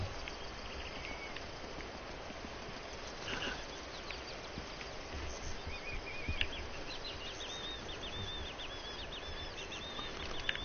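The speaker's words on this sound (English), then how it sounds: "That bird is annoying." Birds chirp in the jungle of the video game Uncharted: Drake's Fortune, with faint, quick repeated calls over a steady ambient background and no talking.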